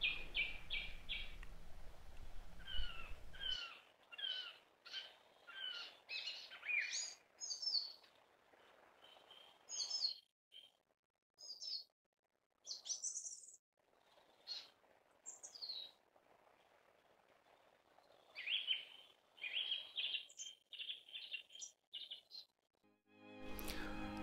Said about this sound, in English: I captured some birdsong in the bush.